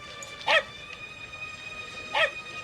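A dog barks twice, each a short, sharp single bark about a second and a half apart, clear and fairly close over a quiet room background.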